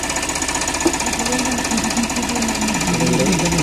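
Diesel engine of a Tata Ace HT Plus BS6 mini truck running during DPF regeneration, a loud, steady, rapid knocking clatter close by.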